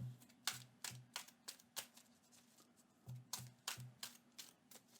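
Deck of cards being shuffled during a solo tabletop game: a quiet series of crisp riffle-and-tap bursts in an uneven rhythm, close and soft, with no talk.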